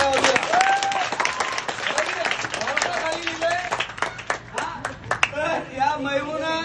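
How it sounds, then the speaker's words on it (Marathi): Applause from an audience at a school sports competition for a sponsoring organisation, steady dense clapping from a large crowd throughout, fairly near, with some voices mixed in. "तर त्या संस्थेसाठी सगळ्यांनी जोरदार टाळ्या वाजवा।"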